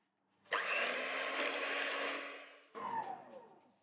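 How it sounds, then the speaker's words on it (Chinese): Electric hand mixer whipping mascarpone cheese smooth for tiramisu: a close, buzzing motor whir that starts abruptly, runs steadily for about two seconds, fades, then restarts briefly. No voices. "面糊继续打发的时候，我们来搅打我们的马斯卡彭，搅打顺滑就可以了"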